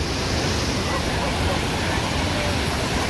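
Sea waves at Dapoli beach give a dense, continuous wash of surf, mixed with heavy wind buffeting on the microphone and a voice nearby.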